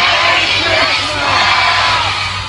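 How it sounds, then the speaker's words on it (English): A crowd at a Christmas lights switch-on in Tettenhall cheers, whoops and applauds loudly and steadily throughout, close and dense with shouting voices. "Were you happy with that applause?"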